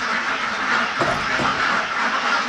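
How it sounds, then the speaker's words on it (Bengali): Domestic native ducks on a farm in Uganda, a steady chorus of quacking and rustle throughout, fairly loud and close, with no voices. "হেই পাতি হাঁস।"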